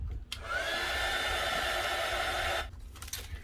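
A hair dryer runs steadily for about two seconds, blowing to dry watercolor paint on handmade stationery, with a loud, even whoosh and a rising whine as it spins up, then it cuts off.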